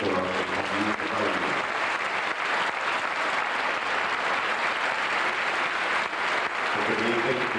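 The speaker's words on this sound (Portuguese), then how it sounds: "Eu agradecia uma salva de palmas muito grande para o seu professor." A large audience claps loudly and continuously for a dance teacher at a folk dance show in São Nicolau, with a brief spoken voice near the start and end.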